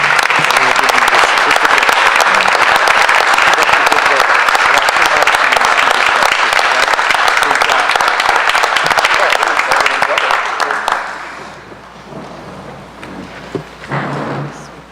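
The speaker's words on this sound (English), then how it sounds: "let's give Liam a huge round of applause on obtaining this great honor" Loud, dense round of applause from a school board meeting audience honoring a student named Liam, sustained for about ten seconds before tapering off, followed by a few scattered claps and some talk.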